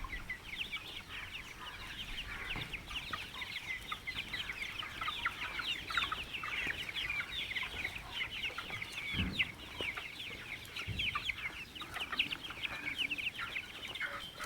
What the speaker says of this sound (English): These are the Swarnadhara chicks. They're 40 days old, 40 to 45 days old, and they are eating morning